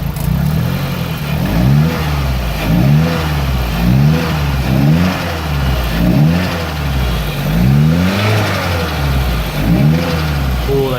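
Car engine with a turbo and a suspected spun bearing revving in repeated swells, each rise in pitch followed by a drop back, loud and close, with turbo whine over a steady running drone.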